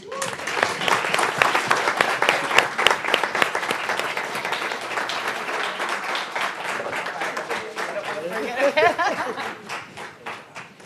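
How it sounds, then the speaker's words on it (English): A crowd at an awards event applauds, loud and sustained, with dense clapping that fades toward the end. "One more round of applause."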